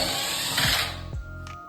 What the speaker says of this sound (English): we're going to remove the 3 screws that hold in the motor